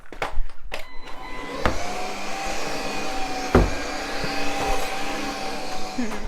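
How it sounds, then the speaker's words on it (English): A G-Tech cordless vacuum cleaner hoovers a bedroom with a continuous, close, high whirring drone that holds steady throughout, broken by a few knocks and bumps. "I'm going to hoover to try and keep those dust levels down"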